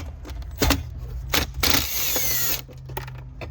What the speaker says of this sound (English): remove 2 more 10mm screws on each side